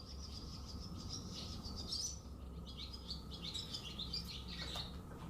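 Birds chatter and chirp continuously outdoors in a played recording, with high tweets layered over a steady low rumble of background noise.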